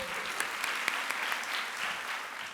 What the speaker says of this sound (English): Give a round of applause for Miss Amy.